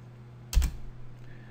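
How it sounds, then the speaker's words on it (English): A single quick burst of computer keyboard keystrokes, a few close, crisp taps clustered together while entering a tag in RSLogix/Studio5000 software, with a faint extra click afterwards over low background hum. "We have to click at the end of it and type in"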